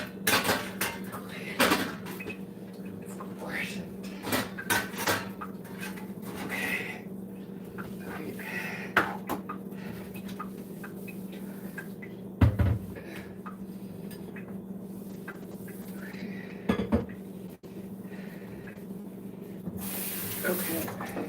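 Kitchen cleanup at a home stove: scattered clinks and clatters of dishes, pots and utensils with brief hissing bursts and a steady low hum, moderately close, with a voice speaking at times.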